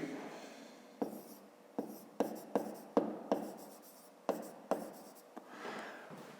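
A pen writes on paper while a grade-5 maths exercise is worked out, making a quiet scratching run of strokes with sharp taps where each new stroke begins, and no talk.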